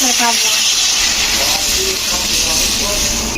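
Water poured into a hot pan of village-style chicken curry sets off a loud, steady hissing sizzle that fills the whole stretch, close and constant, with faint voices beneath it.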